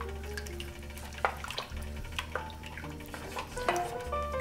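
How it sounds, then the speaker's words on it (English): A spoon stirs a veggie burger mixture with herbs in a bowl, giving soft wet scraping and a few light clinks against the sides, fairly quiet and irregular, with no talk. "I'll mix this up a little bit."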